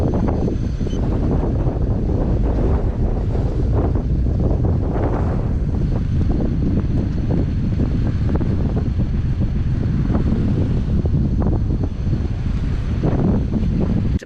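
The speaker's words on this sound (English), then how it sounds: "we've got a bit of wind against us" Strong wind buffets the microphone while sailing a boat around the tip of an island in the British Virgin Islands, a loud continuous roar with gusty surges and water wash underneath.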